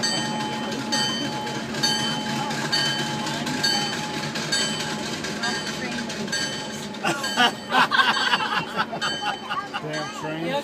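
A train passes close by with a steady rolling rumble and rail clatter that grows louder and rougher toward the end, with voices faintly in the background.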